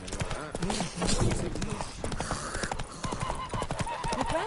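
Roach the horse trots along a path in the Witcher 3 game, a steady run of hoof clip-clops with a voice talking over it throughout.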